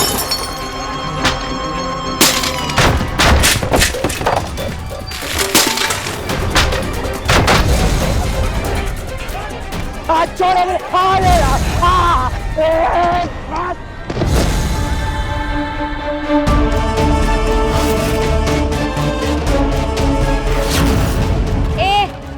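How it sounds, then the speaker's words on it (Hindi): Loud crashes of smashing and breaking objects, glass shattering among them, come in repeated bursts over dramatic music, with brief voices between the impacts. "ये तोड़ने फोड़ने की आवाज।"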